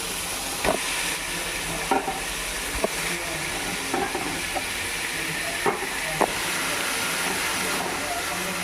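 Chicken frying with turmeric and garam masala sizzles steadily and loudly, with a spoon scraping through the pan every second or so in uneven strokes.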